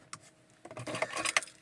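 Car keys for a Jaguar F-Pace jangle close by, a brief quiet rattle first, then a louder burst of metallic clinks and shakes lasting about a second.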